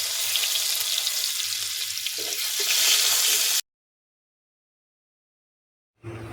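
Garlic sizzles in plenty of hot oil for chow mein, a loud, steady frying hiss that cuts off abruptly into silence and returns briefly at the end.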